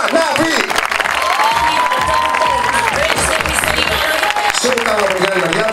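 Audience applauding and cheering for a participant at a women's final, loud and continuous crowd noise with shouting voices mixed in throughout.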